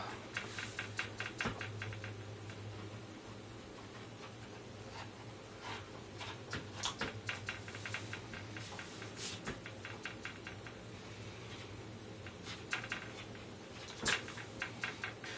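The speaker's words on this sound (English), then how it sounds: "The next step is to go in and bevel all the leather." A leather beveling tool taps and clicks along the edges of thick leather armor in a quick, uneven patter of sharp, close strikes over a faint steady background hum.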